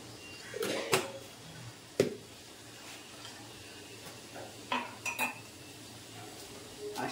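Dishes and cutlery clink in a kitchen during coffee making: sharp metallic taps and knocks come in scattered bursts, several close clanks around the first and fifth seconds, with quiet gaps between.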